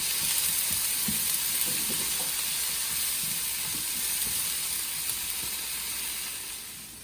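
Asparagus, leek and garlic sizzle and fry in a hot pan, a steady close hiss that holds evenly and fades slightly toward the end, with no talking.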